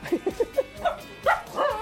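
A dog with mange gives a quick run of four short, sharp yips close by, then a few looser barks, over a faint murmur.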